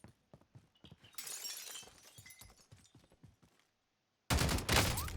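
Sniper rifle fire in a video game: a sharp shattering crack bursts in loud near the end, after a stretch of scattered in-game clicks, footsteps and small impacts.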